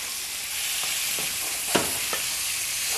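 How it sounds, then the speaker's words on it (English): Steak sizzles in a hot pan, a steady close hiss broken by a few soft spoon strokes and one sharper clink as it is stirred. "And that's going to sizzle real nicely."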